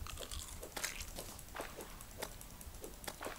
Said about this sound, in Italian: Sembra come se masticasse un cracker quando mangia il fungo